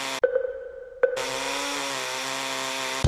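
A whining power drill runs close and loud, a short burst, a pause, then a steady sustained high drone that continues without letup.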